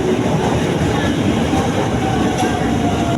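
A 12-car commuter train bound for Bogor rumbles and clatters steadily nearby as it arrives at a station, a continuous loud rolling noise of rail cars with faint squeals, no voices.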